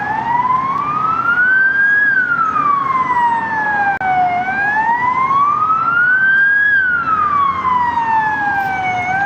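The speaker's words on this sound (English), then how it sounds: "we'll let that ambulance go by." A passing ambulance siren wails in a slow rising and falling sweep, loud and steady, dominating a street in a Ukrainian neighborhood.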